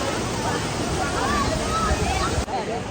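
Waterfall at Kumari Ella near Avissawella, with a steady broadband roar of falling and splashing water filling the whole clip, crowded bathers present and a faint babble of voices mixed in.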